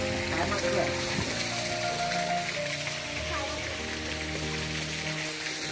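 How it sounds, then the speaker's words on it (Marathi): Water pouring steadily into a small children's swimming tank in a garden, a continuous splashing rush under a talking voice. "पाणी पडताना दिसत आहे"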